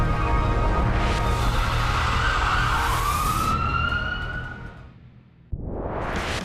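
A loud wailing siren sweeps up and down, then briefly fades before another siren blast starts abruptly.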